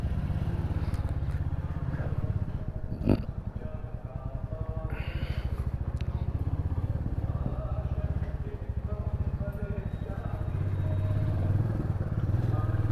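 A motorcycle moves through busy, horn-filled street traffic, its engine rumbling steadily and close throughout, with a brief clattering knock partway through and a general roadway din around it.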